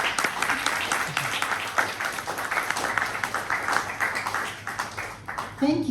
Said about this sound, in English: Give a big round of applause to Alyse